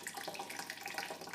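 Water trickles steadily during homebrew wort runoff on a pale ale brew day, a close, soft, continuous burbling with no voices.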